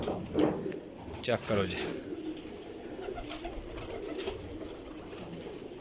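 Breeder's pair of pigeons cooing softly in a loft, low repeated coos near the microphone under a man's speech, with brief flutters and handling noise.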